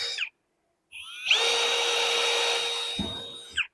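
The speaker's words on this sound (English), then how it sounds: "The drill bit's going through the fiberglass" Power drill bit boring through fiberglass tooling in a workshop, a short whir, then a steady high-pitched grinding run of about two and a half seconds that winds down at the end, close and loud with no talk.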